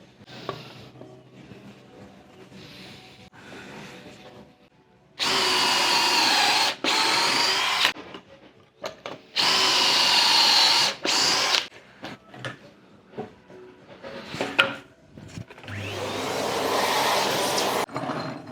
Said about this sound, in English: So the frames fit, just need to pocket hole them together now.